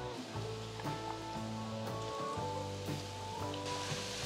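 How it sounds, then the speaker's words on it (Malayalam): Ground spice paste frying with shallots in a pan for a mackerel (ayala) curry, a faint steady sizzle with soft crackles running under a low hum. "നന്നായിട്ട് മൂപ്പിച്ചെടുക്കുക."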